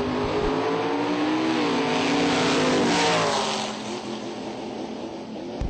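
Dragsters racing at the NMCA/NMRA Nitto Tire All-Star Nationals drag races, a loud roaring engine pass that swells in pitch and then fades slightly as it moves off.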